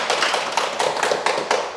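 Audience at a Korean spiritual teaching talk clapping in a dense, steady patter of many hands, fairly close and continuous, with no speech on top.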